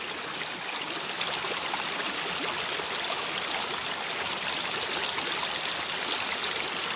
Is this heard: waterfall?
yes